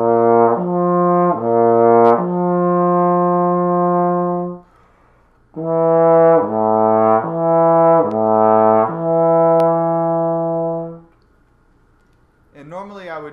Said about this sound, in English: Lip slurs are when you switch between partials,